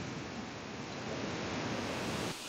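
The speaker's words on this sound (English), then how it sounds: "Also, I'm at the top of the waterfall now." Water rushes steadily at the top of a waterfall, a dense, even roar heard close and alone, with no talk.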